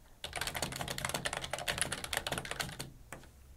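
Rapid clacking of a Cooler Master Suppressor mechanical keyboard, first a run of quick keystrokes and then a flurry of several keys at once, close and crisp.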